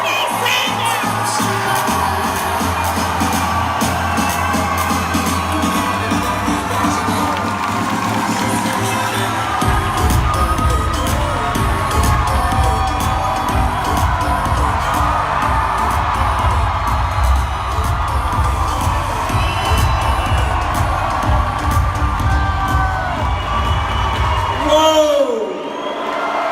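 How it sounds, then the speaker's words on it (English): A Detroit rally crowd cheers, whoops and shouts for Senator Bernie Sanders, loud and sustained for about twenty-five seconds, with a voice calling out over the din before it cuts off. "let's give him a round of applause and stand up and welcome Senator Bernie Sanders"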